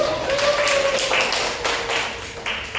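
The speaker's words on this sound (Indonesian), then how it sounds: "tepuk tangan dong buat saya" A classroom of students claps in a short ragged burst of applause, sharp irregular slaps close by, over a faint steady tone in the background.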